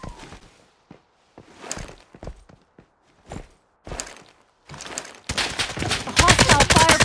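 Gunfire in the shooter game Lost Light: scattered single shots and short bursts at first, then a loud, dense stretch of rapid automatic fire to the end.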